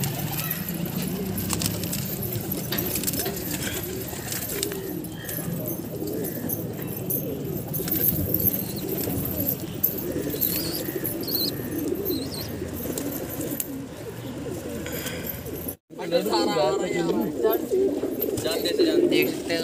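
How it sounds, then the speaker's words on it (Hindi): Punjabi pigeons in a home loft coo softly and repeatedly against a busy background of faint voices and small jangling noises. "पंजाबी कबूतर हैं।"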